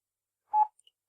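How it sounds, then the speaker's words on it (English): A phone gives a brief single electronic tone, a short clean beep followed by two tiny faint blips, set against near silence. "That was my phone."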